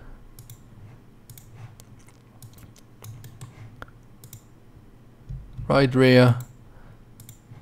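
Computer mouse clicks while fitting brake disc and suspension dummies on an Assetto Corsa car model, a series of quiet, sparse clicks spread through the clip, with a brief spoken phrase near the end.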